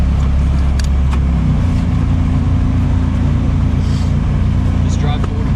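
Car fitted with an SR20 gearbox creeping forward and back at a drift event, a steady low engine rumble with faint mechanical noise, loud and close throughout.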